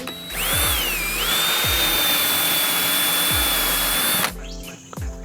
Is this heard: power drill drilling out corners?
yes